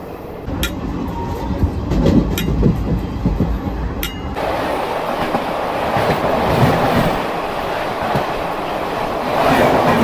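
A nearly empty train running from Tarapith back to Kolkata: continuous close rumble with rhythmic clickety-clack of wheels over rail joints, loud and steady throughout with no talk.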